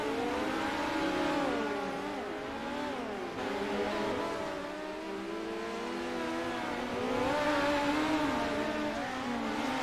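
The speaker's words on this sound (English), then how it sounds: "Ace McCarthy has finally made it out in that 28 machine" A race car, the number 28 machine, runs during a practice session, its engine holding a loud, steady drone that rises and falls in pitch as it revs and accelerates, with no voices over it.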